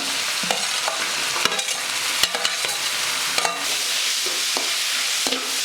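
White radish and capsicum stir-fried in a pan, a loud continuous close sizzle with rapid scraping and clinking stirring strokes throughout.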